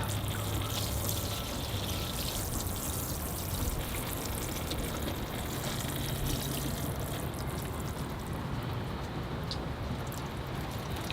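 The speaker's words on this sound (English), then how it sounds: "I'm going to give that a water to kind of level it all off." Water pours steadily onto the fresh soil of a newly repotted Natal ficus bonsai, a continuous close splashing trickle that lasts throughout with no pauses and no speech.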